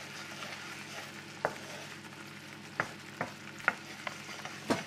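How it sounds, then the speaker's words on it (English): Butter melts into a steak sauce in a pan with a soft, continuous sizzle, broken by several crisp taps and clinks that sound like utensils touching the pan. "You just gently melt that butter into the sauce"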